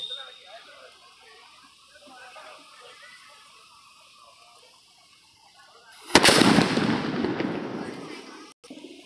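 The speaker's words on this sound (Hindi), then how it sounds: "अब दूसरे वाले बम को जलाते हैं" A firecracker bomb, one of several crackers being tested, is lit and goes off. After a quiet fizzing stretch, one loud close burst hits and decays into a long crackling roar that fades out.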